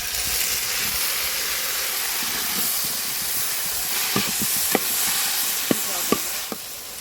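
Chopped onions and tomatoes sauté in a pan for a roasted-masala Sankara fish curry, giving a steady close sizzle and hiss with scattered clicks of stirring and no talk.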